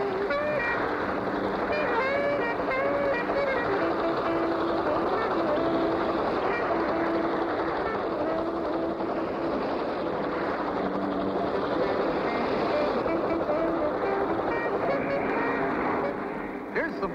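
Speedboats racing in a crisscross pattern at around 45 mph, a continuous roar of engines and rushing water with wind noise throughout, holding a steady, loud level from start to finish.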